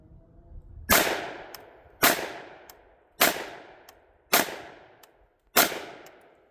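A Noveske 10.5-inch 300 Blackout rifle fires five subsonic 220-grain rounds, each a sharp loud crack with a quick decaying ring, spaced about a second apart against an otherwise quiet outdoor background.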